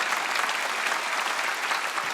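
A church congregation claps steadily through a Sunday worship service, dense overlapping applause filling the room from close by, loud and continuous without pause.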